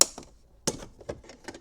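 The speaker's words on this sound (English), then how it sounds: "Just wedge it underneath, unsnap the trim clip" A plastic trim clip on a Fisker Ocean rear door pops loose under a plastic pry bar, a sharp snap at the start, then another crisp click followed by several small ticks and taps up close.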